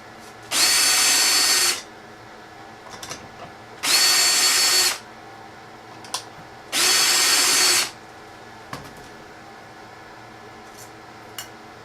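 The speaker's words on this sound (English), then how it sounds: "when you drill your pilot hole, it will automatically center it" A power drill bores a pilot hole with a self-centering bit during a mobile drill press cart build, whining loudly in three separate bursts of about a second each, with brief quiet gaps and small clicks between them.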